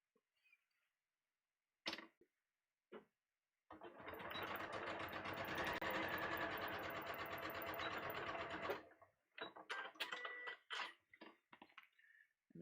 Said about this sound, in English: So now I'm going to sew these at a 1/2 inch.